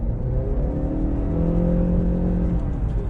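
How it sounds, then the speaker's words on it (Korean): A Honda Accord Hybrid's engine revs under hard acceleration from inside the cabin, a steady hum with rising tonal whine and a low road rumble. "엔진음 자체가 불쾌하지 않게 이제 들어오는 편이에요."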